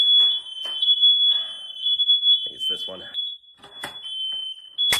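House smoke alarms blare in a loud, piercing continuous tone that runs the whole time while people talk over it.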